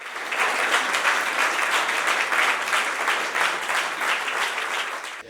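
Sustained applause from an audience at the Triveneta lawyers' union headquarters in Venice for justice minister Carlo Nordio's speech, dense steady clapping that rises and holds throughout.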